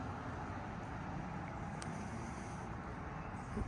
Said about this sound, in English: So there's a car going by.